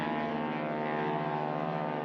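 A STOL drag-race aircraft powered by a turbocharged 998 Yamaha Sidewinder snowmobile engine, with a steady tonal engine and propeller drone held at an even level, moderately distant and without speech.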